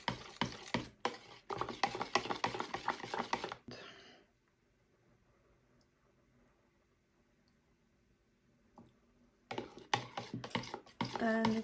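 Soap batter for a cold process bar being stirred by hand in a pot, a busy run of scraping, clicking strokes for about four seconds, then near silence, then the stirring picks up again at the end.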